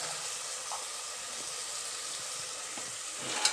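Onions, tomatoes and ginger garlic paste sautéing in a pan for mushroom veg biryani, a steady close sizzle with a few faint clinks of stirring and a small knock near the end.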